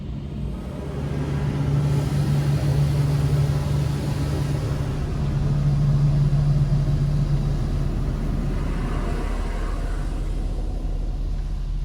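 A red 2003 Vauxhall Corsa C 1.2 SXi is driven along the road, heard from inside as a steady low engine drone with road rumble and a faint hum that rises and falls, with no talk.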